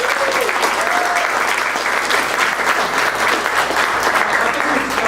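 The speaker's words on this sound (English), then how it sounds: "we should give a round of applause to the Esperanza Peace and Justice Center for 30 years of advocacy" An audience at a protest-themed talk gives a sustained round of applause, a dense, even roar of many hands clapping loudly without letup.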